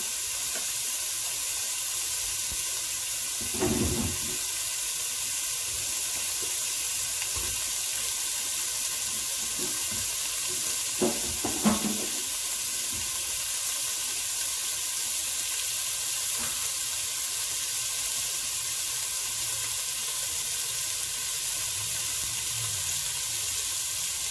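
Beef for a pot roast browns in a hot pot, giving a continuous loud sizzle and hiss with a few soft clinks and shifting sounds along the way, and nobody speaks.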